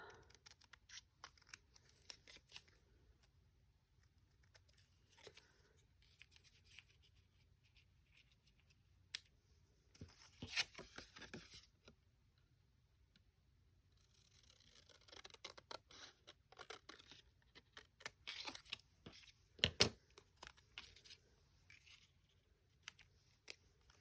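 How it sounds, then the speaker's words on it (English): Scissors cutting fabric for a fabric journal craft project, with sparse, close snips and rustles in scattered bursts and quiet pauses between them, and no voices. "I cannot cut in a straight line at all."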